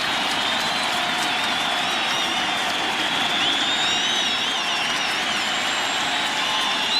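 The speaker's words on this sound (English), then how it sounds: "Crowd is back." A baseball stadium crowd during the 2005 World Series, Astros home game in extra innings, roars in a steady dense wash of cheering and applause that holds loud and continuous throughout, with whistles rising above it and a faint announcer's voice underneath.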